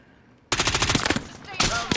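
Sudden loud bursts of rapid automatic gunfire in a video game, close and dense, cutting in after a quiet moment and continuing in quick volleys.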